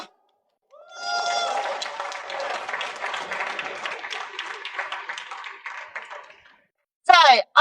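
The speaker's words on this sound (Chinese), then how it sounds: "鼓掌！" Audience applause at a motorcycle launch event for the 820RR, a broad burst of many hands clapping that swells, holds for several seconds and fades out, with a brief voice right after.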